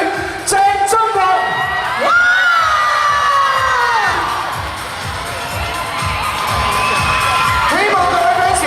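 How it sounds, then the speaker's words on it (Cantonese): Fans at the 2015 Metro Radio Hit Music Awards ceremony in Hong Kong cheer in a loud, sustained crowd roar, with high-pitched screams and whoops rising and falling across it. "希望各位 fans 可以再大力啲嘅掌聲係嘛？"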